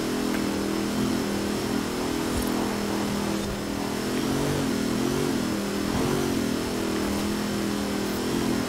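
An Ariel Atom's engine accelerates in the Forza Horizon 4 racing game, holding a loud, sustained, steady drone from start to end with no voices over it.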